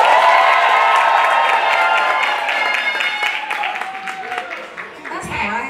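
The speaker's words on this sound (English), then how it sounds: "I wanna see how you guys cheer" A theatre audience at a stage grand re-opening cheers and applauds on cue, a loud, dense wash of clapping, shouts and whoops that fades a little toward the end.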